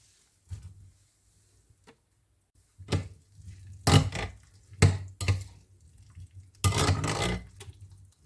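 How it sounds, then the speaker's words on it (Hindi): Soaked boondi pressed between the palms to squeeze out water for raita in a kitchen, a series of separate wet squishes and dripping splashes with quiet gaps between them, close and fairly soft, no talk. "हाथ की हथेलियों से इनका पानी निचोड़ेंगे"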